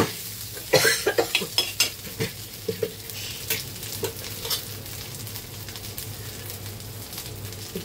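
Potatoes and crushed peanuts hit hot oil with chillies, giving a burst of loud crackling sizzle and stirring clatter early on that settles into a steady, softer frying hiss.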